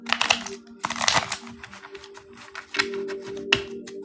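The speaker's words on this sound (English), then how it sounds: "I'm going to shuffle again." Crisp papery shuffling and riffling of tarot cards in quick bursts, with a faint low hum underneath; no talking.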